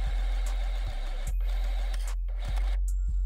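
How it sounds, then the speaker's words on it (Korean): Sewing machine stitching the seams of a fabric bucket hat, a steady loud mechanical whir running throughout with brief regular clicks and short pauses. "이 부분도 가름솔 박음질로 마무리해줍니다."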